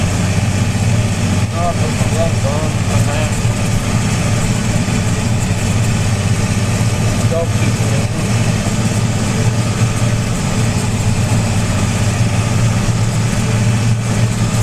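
New farm tractor engine running in the cold at a steady, loud low rumble, with someone speaking over it now and then.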